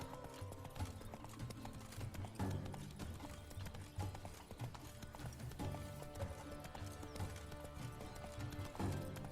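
Roach, Geralt's horse in The Witcher 3, galloping in a steady rhythmic clip-clop of hooves, close and continuous, with a brief whinny and game music underneath.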